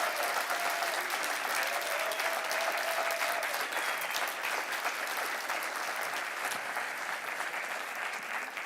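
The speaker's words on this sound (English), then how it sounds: "Please, can we give them a warm round of applause?" A large audience at the European Capitals of Small Retail 2026 award ceremony gives sustained, dense applause, a continuous wash of clapping that stays even and loud for the whole stretch with no speech.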